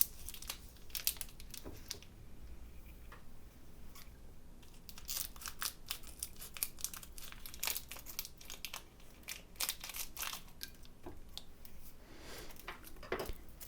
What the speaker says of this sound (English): Now the next is the cheese. So let's get this unwrapped.